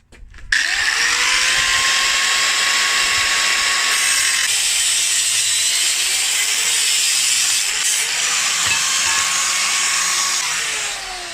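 Continuous rough rasping of a blade cutting through wood, loud and close, with steady back-and-forth strokes for several seconds.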